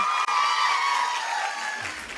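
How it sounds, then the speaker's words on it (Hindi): Crowd applause and cheering at a wellness business achievers' event, a loud, continuous wash of clapping and shouts that fades slightly toward the end. "मैं चाहती हूँ एक बार डॉक्टर अमित दुबे सर के लिए जोरदार ताली होनी चाहिए"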